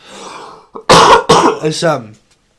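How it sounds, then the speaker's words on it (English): A person clears their throat and coughs a few times in quick succession, close and loud, with a vocal rasp. "Sorry if I keep coughing."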